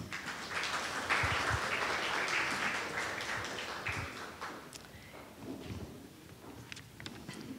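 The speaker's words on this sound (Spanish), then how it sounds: "Y les invito a todos a que los recibamos con un fuerte aplauso." An audience at a social work panel event claps to welcome the panelists, applause swelling early then thinning out, with footsteps and scattered knocks as people move about.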